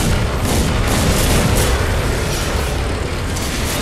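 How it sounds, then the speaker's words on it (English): Heavy weapon fire in the video game Crysis 3 roars loudly and continuously, forming a dense, booming barrage that runs without letup and with no voices. "Is the weapon overheating or something? Keep stopping firing sporadically."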